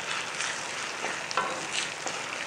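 Instant mango pickle cooks in a pan, giving a steady close sizzle and hiss with a few soft stirring scrapes, no voices.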